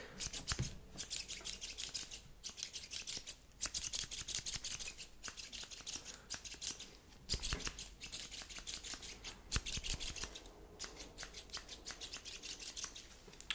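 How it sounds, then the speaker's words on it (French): Metal scissors snip repeatedly in an ASMR haircut roleplay, quick crisp cuts in steady bursts with brief pauses, close and intimate, with no voice over them. "ça veut dire deux paires de ciseaux à la fois"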